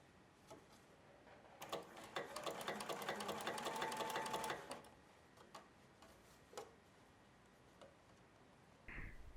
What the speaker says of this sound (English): Push the elastic against the fold as you sew